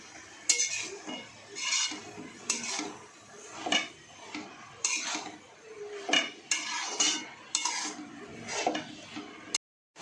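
A spoon stirs vegetables in a metal pan while making moong pulao, with close, repeated scrapes and clinks coming in uneven bursts.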